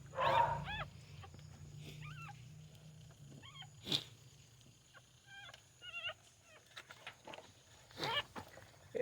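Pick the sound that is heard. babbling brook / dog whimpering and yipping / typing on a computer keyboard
dog whimpering and yipping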